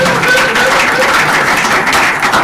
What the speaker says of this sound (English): Make we clap for ourselves.